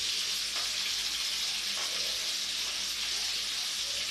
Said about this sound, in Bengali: বাকি অর্ধেকটাকে এবার লাল করে একদম ভেজে নেব।